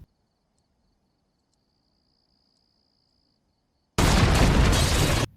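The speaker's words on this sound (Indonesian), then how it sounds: "terjadi ledakan pada peternakan" Crickets chirp faintly in quiet night air, then a loud, broad explosion at a farm suddenly bursts in and roars for over a second before cutting off.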